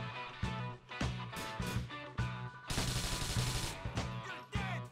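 Rapid automatic gunfire from the video game Grand Theft Auto 4, loud bursts of shots followed by a sustained dense volley, with no speech over it.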